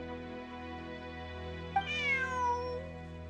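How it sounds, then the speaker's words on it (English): A cat meows once in Genshin Impact, a single rising, drawn-out meow over a steady game music drone, clear and moderately close with no speech. "Bonnie is Pierre's cat."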